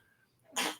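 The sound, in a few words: sneeze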